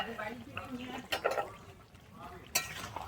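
Spoon stirring a Bengali-style rui fish curry with flat beans and potatoes in a pan, giving soft scraping and wet sloshing strokes with a few sharper clinks, fairly close, under a quiet speaking voice.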